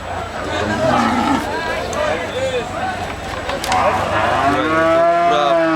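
Cattle, including bulls, moo loudly several times at a cattle market in Banshkhali, Chattogram, long low bellows rising over a busy crowd of voices and market chatter.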